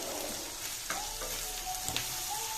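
An egg fries for chow mein, a steady sizzle running throughout with a few clinks and scrapes from stirring in the pan, close and moderately loud, no voices.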